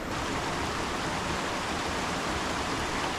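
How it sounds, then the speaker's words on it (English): Small waterfall at a stream crossing on a backpacking trail in Shenandoah National Park, a steady, dense rushing roar of falling water that holds even and loud from start to finish with no voices. "We got a pretty nice little waterfall to our right here"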